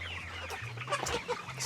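Chickens on a backyard farm in Cebu cluck close by in quick irregular bursts over a faint low hum, with no voices.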